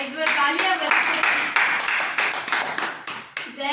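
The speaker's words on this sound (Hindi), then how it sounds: "एक बार तालियां बजाइए।" A small audience claps in a brisk, uneven burst, the individual hand claps sharp and close, with a voice speaking over them at the start.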